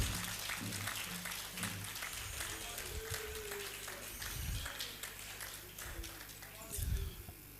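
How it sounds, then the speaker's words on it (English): An audience at a gathering honoring a former Black Stars coach gives a moderate round of applause, steady clapping mixed with murmuring voices and some talk over it. "Shall we? Round of applause."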